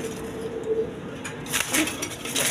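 High-flying Giribaz pigeons in a pigeon sale enclosure give soft, low cooing in a couple of short rolling phrases, fairly faint over a hissy background.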